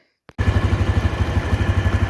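A motorbike engine starts up and runs steadily close by, a loud pulsing low throb with a regular beat, heard alone after a brief silence, at a moose hunt in the woods.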